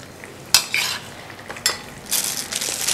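Utensil scraping and clinking in a pot as masala and yogurt fry for an onion korma, with sharp metallic strokes at intervals and a soft sizzling wash building toward the end.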